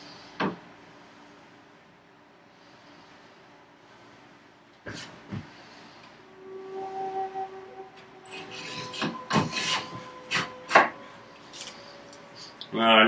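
A hand plane roughly smooths the edges of a wooden board for workbench vise chops, with sparse quiet strokes at first, then a denser run of sharp scraping and knocking sounds close by.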